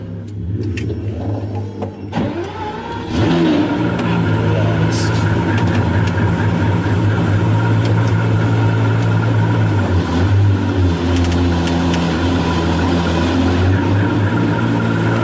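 A Pagani Zonda 760RS supercar pulls away, its engine a steady, loud low drone that swells after a brief dip, with someone talking over it throughout.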